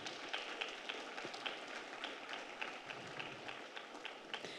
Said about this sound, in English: Let's give Ms. Bullington another round of applause.